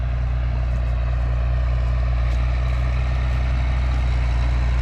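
A truck with an 11-litre Cummins engine runs steadily, a loud continuous low drone with a constant rumble and no change in pace throughout.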